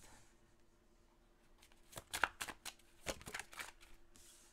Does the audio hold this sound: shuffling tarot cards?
yes